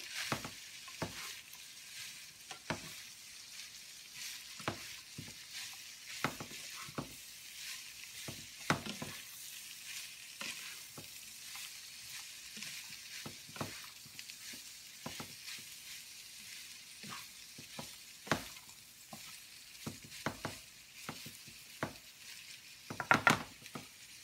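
Crack slaw being stirred in a pan on the stove: a steady, soft sizzle runs throughout with frequent sharp scrapes and clicks from the utensil against the pan, and there is no talking.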